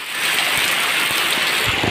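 Heavy rain pours down steadily, a dense, continuous hiss that fills the whole clip evenly, with a few soft low thuds and no voices.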